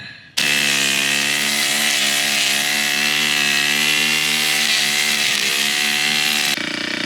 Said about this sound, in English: So I'm going to put some gas here in this weed whacker and buzz on up in the sunset.